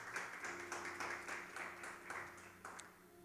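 Church congregation applauding with steady, moderately dense hand clapping in a rhythmic pulse, quiet and somewhat distant, with faint sustained tones beneath and no speech.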